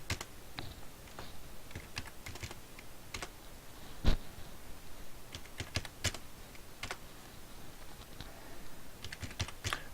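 Rapid typing on a computer keyboard while entering trial balance figures, with irregular bursts of clicky keystrokes, a few sharper key hits standing out, close and moderately loud throughout.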